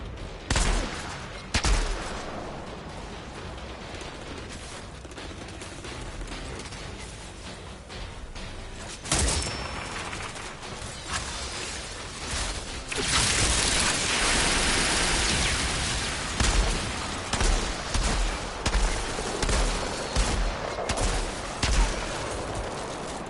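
Gunfire rattles through a firefight in the video game Outriders, with sharp bursts and single shots over a dense hissing wash of noise.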